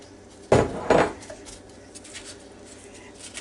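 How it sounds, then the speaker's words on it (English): Chopped onion from one large onion is dumped into a roasting pot for an Angus beef chuck pot roast, making two quick, close thuds and clatter followed by near silence. "And we're just going to dump those in there."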